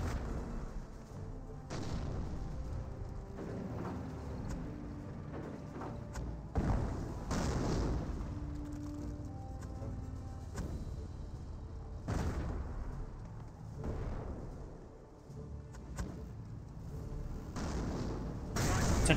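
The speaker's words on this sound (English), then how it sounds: "It does avoid the mortar fire" Mortar and artillery fire in the World War II strategy game Company of Heroes: repeated booming thuds and blasts at irregular intervals over steady battlefield rumble, with no talking.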